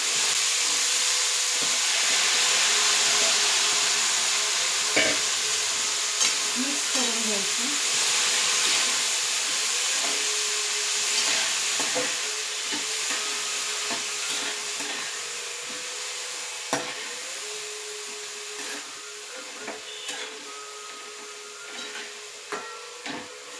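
Steady hiss of cowpea pods frying in a hot pan, with occasional clinks and scrapes of stirring, loud and continuous throughout.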